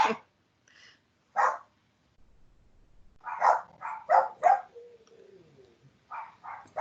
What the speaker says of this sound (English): I'm having a puppy issue, it sounds like, in the background